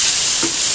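An idiyappam mixture is stirred in a hot pan, giving a loud, steady sizzle with one brief scrape of the spoon partway through, very close and with no speech.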